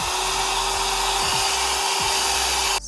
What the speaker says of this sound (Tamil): ஹேர் ட்ரையர் யூஸ் பண்ணிக்கோங்க